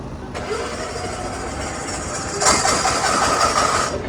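A motor vehicle engine fires up at a petrol pump and settles into a steady mid-pitched running hum, growing louder and rougher partway through, with no clear speech.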